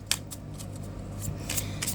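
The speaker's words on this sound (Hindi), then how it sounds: "last shuffle" A deck of tarot cards being shuffled close by, a quick series of soft riffling flicks over a low steady background hum.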